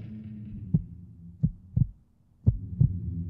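A heartbeat sound effect thumps in low, muffled paired beats, close and isolated against quiet, with irregular gaps between the pulses.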